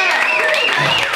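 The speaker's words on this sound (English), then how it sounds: "You guys are clapping like I just did open heart surgery on a child or something." Audience applause for a comedian at the start of a stand-up set, a steady dense wash of clapping throughout with a voice speaking over it.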